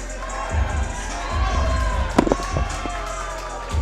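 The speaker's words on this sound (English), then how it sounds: "Fighters getting the crowd hyped up." A crowd at a boxing or fight event cheers and roars loudly and continuously, with sharp shouts and thumps breaking through the din.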